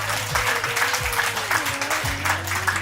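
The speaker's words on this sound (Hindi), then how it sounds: "जोरदार तालियां" Applause follows a yoga demonstration, a steady wash of many hands clapping at moderate distance, with a low hum and a faint voice running underneath.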